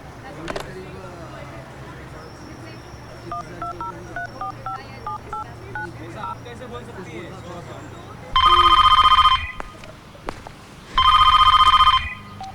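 Telephone keypad tones beep in a quick sequence as a number is dialed, followed by two loud, long bursts of an electronic telephone ring with a pause between them.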